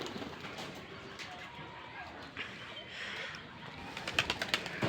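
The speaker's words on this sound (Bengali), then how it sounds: "আপনাদেরকে দেখালাম যে কবুতর একটু আকাশে উড়ে" Pigeons released from a rooftop coo and flutter outdoors, soft bird calls over a faint background with a few wing flaps and clicks near the end.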